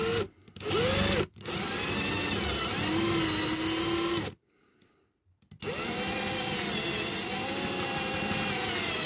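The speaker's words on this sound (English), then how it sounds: "You can roll your drill around a bit if you want" A power drill runs on a diecast model during window unit removal, a steady close whine in several bursts, with one short cutout and a near-silent gap of about a second before it resumes.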